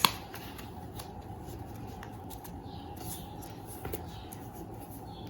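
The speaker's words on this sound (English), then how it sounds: "First, we need to fold the paper like this." Paper is creased and folded for a doll's handbag, giving soft crinkling and scraping with a few sharp clicks, faint against a low room hiss.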